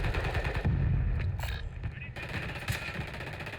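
Rapid automatic gunfire rattles in the Warzone video game, with bursts of close, sharp shots broken by a brief lull before firing resumes.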